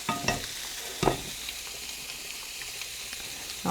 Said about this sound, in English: I'm just going to break up the sausage a little bit